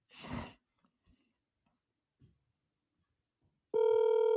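A telephone ringback tone sounds while a call is being placed. A short breathy noise and a few faint clicks come first, then near silence, then a loud, steady, buzzing ring tone begins near the end.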